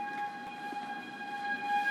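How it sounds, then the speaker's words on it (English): Outdoor tornado warning sirens wail steadily during severe weather in Kansas, a sustained droning multi-tone blare with a faint distant quality, heard alone without talk. "So I can hear the tornado sirens out here, of course."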